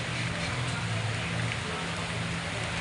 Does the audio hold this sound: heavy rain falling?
yes